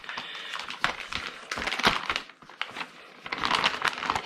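Packaging around a 2JZ head gasket is torn and crinkled open, producing close, irregular crackling and rustling bursts with no talking.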